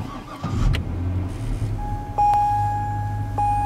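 Chevrolet Corvette C6 V8 engine starting: a short mechanical rumble and click, then a steady low idle that sits under a continuous electronic chime and several sharp beeps.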